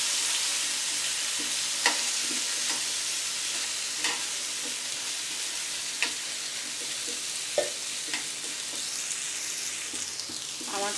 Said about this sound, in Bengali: আলুটাকে একটু ভেজে নিই